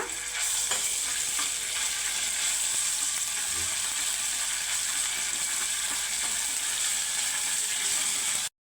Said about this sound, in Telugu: ఇదైతే పచ్చి పచ్చి వాసన పోయేదాకైతే వేపుకోవాలన్నమాట